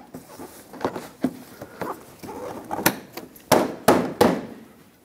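Plastic front bumper cover of a 2008-2012 Jeep Liberty being pressed and clipped into the wheel arches, giving a series of sharp snaps and knocks of varying loudness, close up with no speech.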